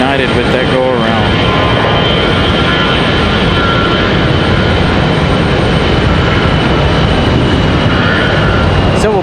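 Loud, dense jet roar from a Delta Airbus A320 on its departure from a Raleigh-Durham runway fills the whole stretch, steady and powerful with a rising whine early on.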